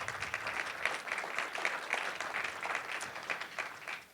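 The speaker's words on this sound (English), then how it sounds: "How about some applause?" An audience at a Gonzaga University talk applauds in a steady, dense wash of clapping that lasts about four seconds, fairly faint and distant throughout.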